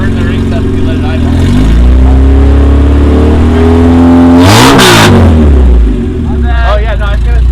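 A freshly rebuilt car engine is held at about 2,000 rpm during break-in instead of idling, giving a loud close rumbling drone that surges in a sharp rev midway, with people talking over it.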